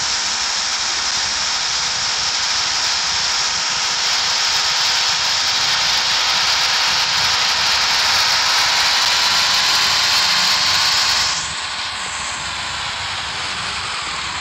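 A modified tractor driving at top speed makes a loud, steady broadband roar with wind rush that holds for about eleven seconds, then drops noticeably to a lower, quieter level.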